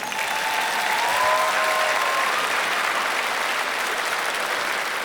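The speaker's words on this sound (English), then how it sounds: "Can we have a round of applause for Miss Stephanie?" Pageant crowd applause at the Miss Hooters International Pageant in Lake Tahoe, Nevada: a loud, continuous wash of clapping with brief cheers, steady for the full stretch.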